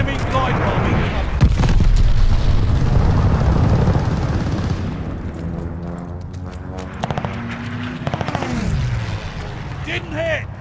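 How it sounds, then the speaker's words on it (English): In Call of Duty: Vanguard, airstrike explosions and gunfire roar in a heavy, continuous rumble, then thin out into scattered sharp shots and a falling whine, with voices calling out over the battle. "Friendly sending an airstrike! Enemy glide bombing coming!"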